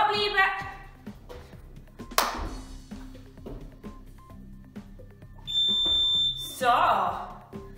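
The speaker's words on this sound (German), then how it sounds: "Ich glaube, jetzt hört der Timer nicht auf" A workout interval timer beeps during a step workout, giving sharp high electronic tones among thumps and background noise, loudest near the end.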